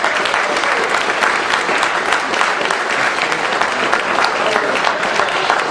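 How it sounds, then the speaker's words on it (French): Audience at a political event in Belgium applauding a guest, a dense, even burst of clapping from many hands that continues steadily for several seconds. "On peut l'applaudir déjà pour sa présence."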